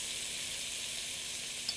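Soy sauce sizzling in a hot pan of chili beef and shrimp fried rice, a steady bright hiss that holds evenly throughout with no talk.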